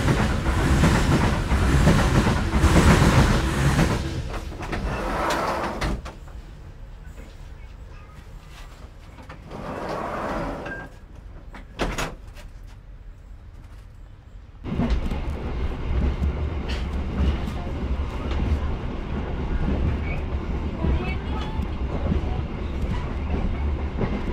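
Babaranjang freight train rolling past a stopped Rajabasa passenger train at a station, a loud rumbling pass with clickety-clack of wheels that dips, swells briefly, then returns as a steady close rumble.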